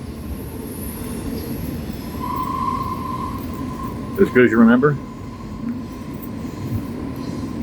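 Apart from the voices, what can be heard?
train going by in the background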